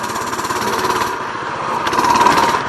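A motorcycle engine revs hard with a loud, rapid, pulsing buzz during a wheelie attempt, holding steady and then rising a little toward the end, with no talking.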